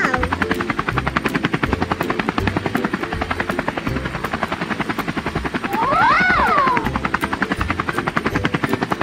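A cartoon helicopter's rotor beats with fast, regular, close-up thumps, while a brief rising-and-falling whistle cuts through near the end.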